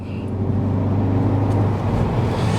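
Remapped Ford Focus ST Mk3 with a six-speed gearbox cruising on the motorway, heard from inside as a steady low engine drone and road roar, loud and even, with no talking.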